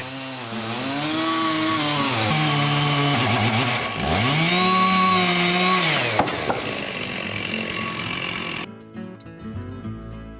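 A chainsaw with a 90 cm bar roars loudly and continuously through a large zelkova log, engine pitch dipping and rising under load, then cutting off near the end.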